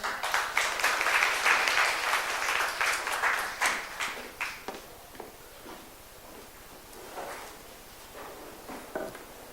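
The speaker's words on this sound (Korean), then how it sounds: "여러분 따뜻한 박수 맞아주세요" A seated audience claps warmly to welcome a speaker to the stage at a public gathering. Dense applause lasts about four seconds, then thins to scattered claps and quiet shuffling.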